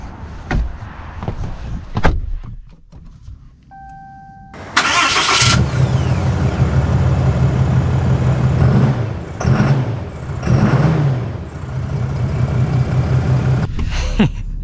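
A 2024 Ram pickup with a Cummins diesel engine cranks and fires after a quiet stretch with a door sound and short preheat tones, then settles into a loud, steady, rumbling idle close by with a few brief bumps.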